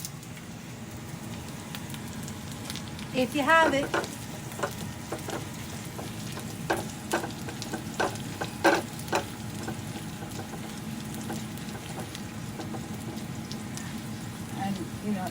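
Curry leaves hit hot oil in a pan while cooking black chickpea curry, giving a steady crackling sizzle with a few sharper pops, heard under a person talking.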